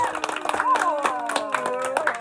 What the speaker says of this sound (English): Everybody, clap for Caroline.